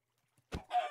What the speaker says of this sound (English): Oh, hey, there is a chicken here.